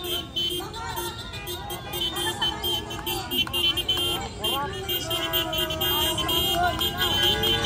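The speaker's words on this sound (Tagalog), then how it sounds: "Busina ng busina, oh." Several car horns toot repeatedly in short irregular bursts amid traffic noise at a political supporters' gathering, with voices talking over them.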